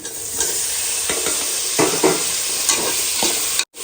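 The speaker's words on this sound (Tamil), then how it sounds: "இந்த வதக்கும் போது டங்குன்னு சத்தம் கேட்குது பார்த்தியா?" Stir-frying green chillies and tomatoes in a pan with a steady sizzle, a metal spoon scraping and clanking against the pan in a few irregular knocks, close and loud.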